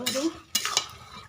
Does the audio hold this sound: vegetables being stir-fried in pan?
yes